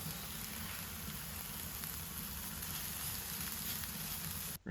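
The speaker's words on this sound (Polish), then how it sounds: "Na patelnię wylej oliwę z oliwek, rzuć najpierw cebulę, potem dorzuć pieczarki." Onion and mushrooms fry in olive oil in a pan, a soft, even sizzle hissing steadily before it cuts off abruptly at the end, with no talking.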